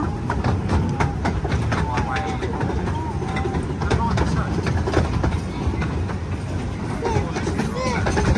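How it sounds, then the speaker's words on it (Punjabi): A train in the UK rolls along with continuous rumbling and rhythmic rail clatter, voices speaking over the noise. "ਜਾਂਦੀ ਜਾ ਰਹੀ ਟ੍ਰੇਨ ਇਹੋ ਹੀ ਚੱਲੀ ਹੈ"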